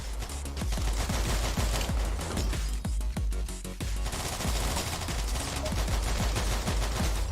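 Rapid, sustained gunfire from the video game All Day Dying, a dense stream of shots with a steady repeating rhythm, loud and close over a constant low rumble, with no talking.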